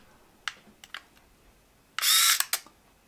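An Olympus Mju-I compact film camera gives a few small clicks, then its lens motor whirs loudly for about half a second as the lens extends or retracts, followed by a final click. The sound is close and isolated, with no talking.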